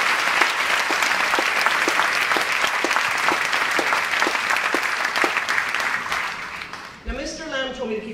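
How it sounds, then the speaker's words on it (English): A full school hall at a commencement ceremony claps steadily for several seconds, many hands in a dense patter, before a speaker's voice comes in near the end as the clapping fades. "Can you give yourself a big clap?"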